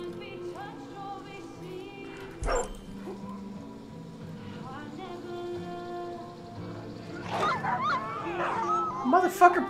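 A dog in the video game Far Cry 5 barks and yelps in short bursts near the end, loud and close, over game music and a steady hum, with a voice talking.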